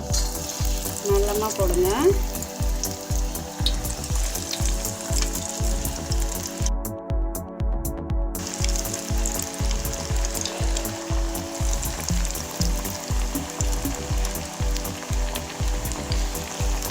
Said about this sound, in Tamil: வாங்க இப்போ நம்ம எண்ணெயில் போட்டு எடுத்துக்கலாம்.